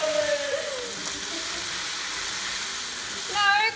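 Pad see ew noodles sizzle steadily as they are stir-fried in a pan, a continuous hissing crackle with scraping of a stirring utensil, while a voice speaks faintly in the background.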